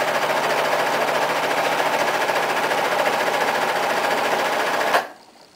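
A sewing machine stitches the corner of a fabric cloth wipe, a loud, steady, rapid mechanical chatter running for about five seconds before cutting off abruptly.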